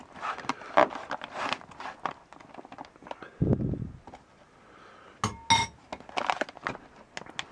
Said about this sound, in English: just stir it up real quick here.